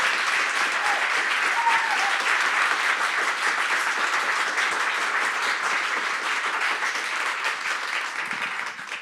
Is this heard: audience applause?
yes